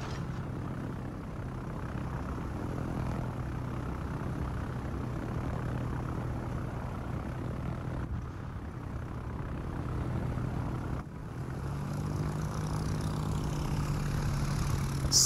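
Aircraft drone overhead in the World of Warships video game, a steady low engine hum with faint propeller buzz that runs continuously at moderate distance, with no talk.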